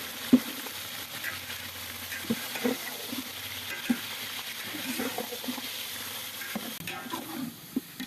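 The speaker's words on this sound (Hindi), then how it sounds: "चिकन को अच्छी तरह से फ्राई करेंगे।" Three kilos of chicken frying in a pot with browned onions for biryani: a steady, close sizzle with intermittent scrapes and clinks of a spoon stirring against the metal, no talk.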